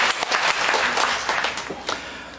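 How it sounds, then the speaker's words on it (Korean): A church congregation at a Sunday service applauds, giving dense, fairly close clapping that thins toward the end of the short burst. "모두에게 박수 한번 보내주십시오"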